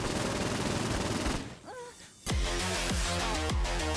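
Rapid gunfire in the video game Saints Row 4 is aimed at a door, loud bursts of repeated shots filling the first second and a half, a brief quieter gap, then another sharp volley of distinct, closely spaced shots.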